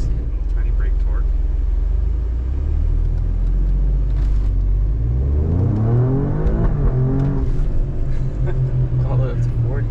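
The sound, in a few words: Alfa Romeo Stelvio QV accelerating on road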